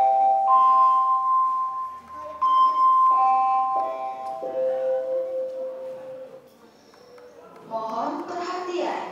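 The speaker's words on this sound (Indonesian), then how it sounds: "Bel tanda masuk telah berbunyi." A school bell at a junior high school in Kesamben, Indonesia, signals the start of class as a clear electronic chime melody of descending tones. A voice begins speaking near the end.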